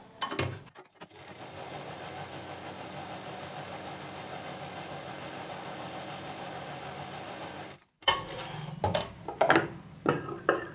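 A sewing machine runs a steady, even stitch around a circle on velvet fabric for a designer bag, humming continuously for several seconds before stopping, followed by a few clicks and handling knocks.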